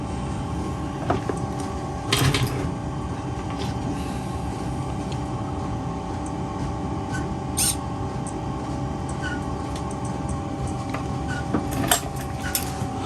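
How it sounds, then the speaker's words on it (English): A printer in a workshop where an RC model aircraft is being restored drones with a steady mechanical whine and hum, broken by occasional sharp clicks and knocks, continuing throughout at moderate level. "That printer's making that horrible noise again."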